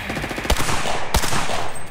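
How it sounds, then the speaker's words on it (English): Video game gunfire with two sharp, loud shots standing out over a dense, continuous rattle of weapon fire, close and punchy throughout. "Someone else is shooting."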